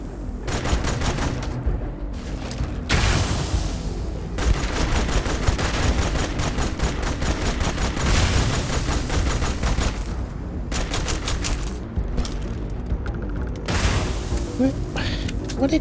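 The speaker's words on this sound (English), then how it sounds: "What exactly is shooting that stuff at me?" Rapid bursts of gunfire and explosions from a space cowboy video game, firing toward the player almost without pause across the whole stretch, loud and dense with brief lulls between volleys.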